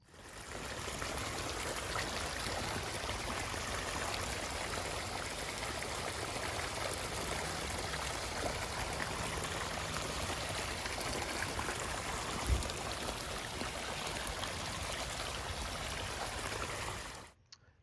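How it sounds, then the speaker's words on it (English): Steady rushing of irrigation water running on a sweet potato field, a continuous broadband flow that holds evenly for the whole stretch before cutting off at the end. "the water's on, so we're gonna let it run about a half a day"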